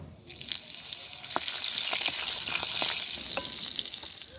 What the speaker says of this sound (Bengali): কড়াইতে অল্প পরিমাণ তেল দিয়ে এতে একটু কালো জিরে ও কাঁচা লঙ্কা প্রথমে ফোড়ন দিয়ে নেব